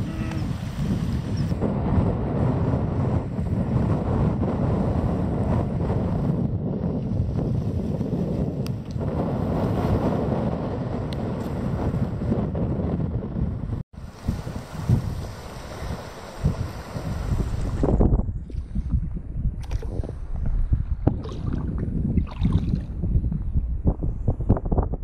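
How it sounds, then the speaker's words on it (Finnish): Steady wind gusting and buffeting the microphone on a large lake while paddling a canoe or kayak in warm summer wilderness, a continuous loud rush with water and boat noise beneath, easing into quieter lapping and intermittent knocks after a brief dropout. "mahtavaa myötätuuli kerta kaikkiaan"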